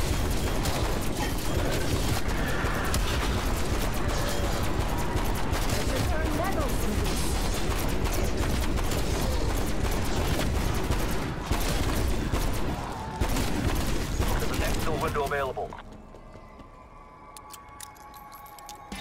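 Sustained gunfire in Call of Duty Cold War Zombies, a dense, loud barrage that runs for most of the stretch with clanking mechanisms and a voice underneath, then drops away to quieter game sounds.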